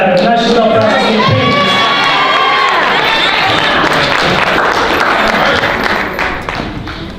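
A crowd at a Black History celebration cheers and shouts loudly for an honoree, with clapping mixed into the dense, continuous roar that eases off slightly at the very end.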